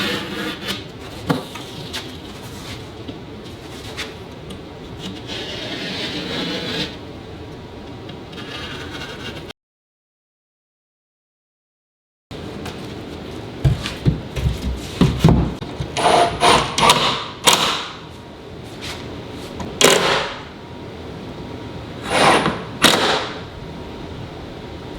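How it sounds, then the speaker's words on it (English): A knife scores a sheet of sheetrock in a series of rough rasping strokes, then a short silence. Sharp, loud cracks and thumps follow as the board is snapped loose. "all I have to do is go to the back side, score it, and boom, we'll break it loose"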